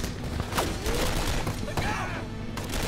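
Rapid Tommy gun bursts in the war shooter 7554, a loud stream of gunfire with thuds and mechanical clatter amid other game noise, heard alone without talking.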